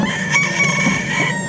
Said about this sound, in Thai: มันได้ยินเสียงไก่ขันในช่วงที